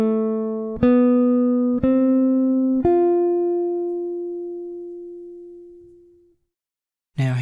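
A jazz guitar plays a chord melody variation on a theme, with three struck chords ringing clearly and a long sustained note fading to silence, then another chord entering at the end.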